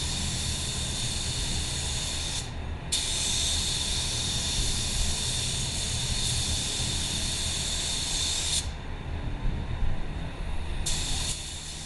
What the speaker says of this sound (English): One side I'll spray, then I'll spray the middle, and I'll finish off on the last side